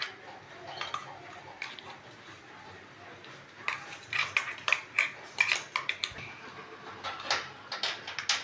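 A spoon clinks against a bowl while mixing sweet potato into date puree, a run of sharp small taps and scrapes that grows busier and louder in the second half, close by with no talk.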